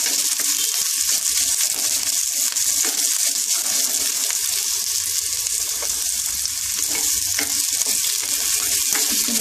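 Chopped onions fry in hot oil for potato chop, browning to a reddish colour, with a loud, continuous close-up sizzle broken by stirring scrapes.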